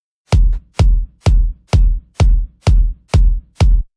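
A classic progressive house kick drum sample in FL Studio thumps eight times in a steady four-on-the-floor rhythm, each hit a short, punchy, deep boom with a quick decay and silence between.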